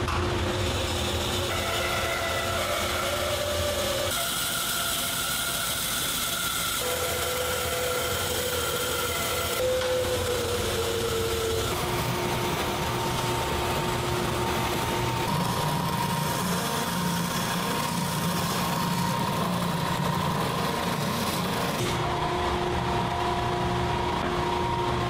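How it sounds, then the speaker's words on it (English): Bandsaw cutting curved profiles in porch swing boards, a steady loud whine and hum running continuously with shifting pitch as the blade works through the wood. "Over at the bandsaw to cut those profiles"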